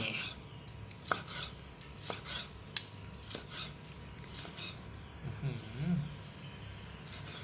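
Scattered knife cuts and scraping on a board as grilled pork is sliced, with clinks of utensils, under intermittent voices and background chatter.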